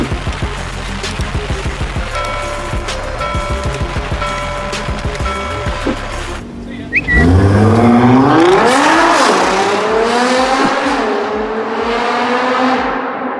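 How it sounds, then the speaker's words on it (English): Nissan GTR 2017 engine roaring up through its revs, preceded by a steady mechanical drone with rhythmic ticking, then a sweeping rise in pitch as it accelerates, loud and sustained with no talk. "My current car is a Nissan GTR 2017 that spits fire"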